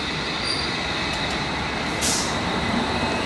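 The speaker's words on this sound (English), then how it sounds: "Coming in now, we have 413 Metropolitan Line train to Aldgate" A London Underground Metropolitan Line train pulls into Rickmansworth station, its wheels squealing steadily on the rails as the carriages roll past close by, with a brief louder hiss partway through and no talking.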